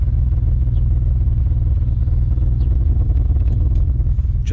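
A BMW E34 engine burbles at idle with a deep, steady, loud low rumble and faint clatter, heard close up without any talking.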